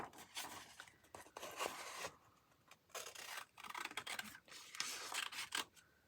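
Scissors cut around a shape in several bursts of crisp snipping and rustling, close and fairly quiet, with short pauses between bursts and no talking.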